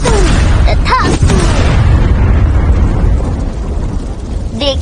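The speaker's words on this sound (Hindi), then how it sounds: "देख लिया ना, ये था मेरा साफ सीखा धमाकेदार जादू।" A magic explosion from a Hindi-dubbed anime rings out as a loud booming blast with sharp whooshing sweeps, then slowly rumbles down, with a rising swoosh at the very end.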